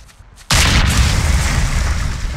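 A breaching charge detonates in a Ghost Recon close-quarters training game: quiet moments give way to one sudden loud boom that rolls into a long rumbling roar and debris wash, with no talking.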